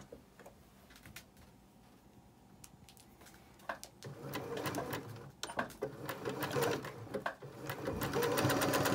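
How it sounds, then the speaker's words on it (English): A sewing machine stitches stretchy fabric for making bows, starting with sparse ticks and light mechanical taps, then settling into a steady, rapid, close chattering run that grows louder toward the end. "And you sew it."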